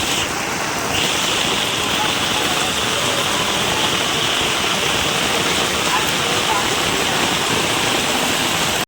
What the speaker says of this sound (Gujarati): મુશળધાર વરસાદ છે બાકી